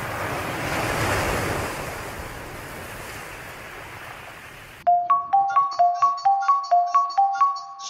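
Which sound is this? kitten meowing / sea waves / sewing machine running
sea waves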